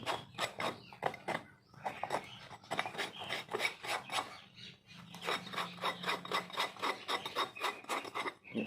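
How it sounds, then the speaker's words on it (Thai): Residue is scraped off a leather shoe in quick, rhythmic rasping strokes that repeat in short bursts, quiet and close with brief pauses between runs. "แล้วก็ขูดพวกนี้เอาไว้หมด"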